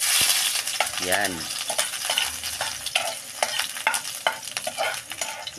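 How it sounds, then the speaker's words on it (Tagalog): Ginger frying in hot oil for a spicy tuna dish, a steady bright sizzle with stirring clatter throughout, a short spoken word breaking in near the start. "init na ang mantika. So ilagay na natin ang lamas mga kaperson. Una natin ang luya mga kaperson."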